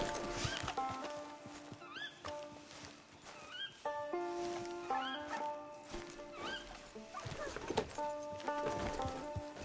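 Video game horse hooves clip-clopping at a steady pace alongside neighs and whinnies, set against a busy background of game music, moderately loud throughout.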